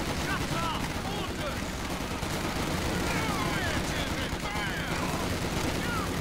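Dense infantry gunfight between assault grenadiers and Tommies in Company of Heroes 2, overlapping rifle and submachine gun fire crackling continuously with whizzing ricochets and battlefield clutter, loud and busy throughout.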